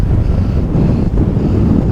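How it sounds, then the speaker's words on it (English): Strong gusts roar across the microphone on an island pier, a steady low buffeting rumble filling the whole stretch with no voices. "It's well too windy to do anything"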